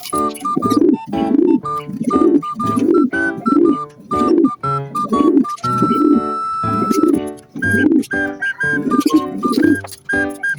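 Racing pigeons coo repeatedly in close, rhythmic bursts at a loft, each low throaty phrase following the last with brief pauses, mixed with a few whistling bird calls; no talking.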